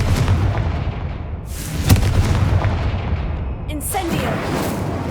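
Confringo fire-blasting spell in Hogwarts Legacy, a sustained low rumbling burst with a sharp crack near the two-second mark, followed by a crackling whoosh of magical effects, loud and close over a steady game ambience.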